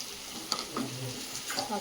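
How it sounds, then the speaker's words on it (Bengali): Onions fry in a pan for mutton curry with a soft, steady sizzle. A few light clinks of stirring cut through, and distant voices sit underneath. "পেঁয়াজটা ভাজা ভাজা হয়ে গেছে"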